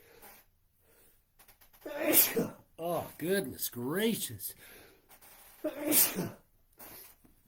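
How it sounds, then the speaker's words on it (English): A few sharp sneezes, one early and one later, with a person speaking briefly between them in a quiet room. "Nothing like some sneezing in the morning"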